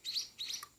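One-week-old munia (emprit/pipit) chick giving two high, thin chirps close by, each about a quarter second long, followed by a short faint peep, with no other sound.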